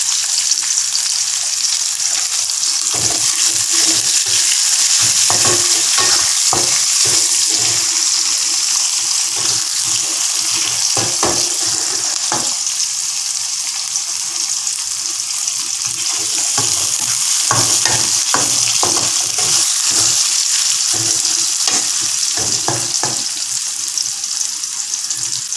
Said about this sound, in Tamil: வெங்காயம், வெங்காயம் வதக்கிறதுக்கு கொஞ்சம் உப்பு போட்டுக்கிறேன்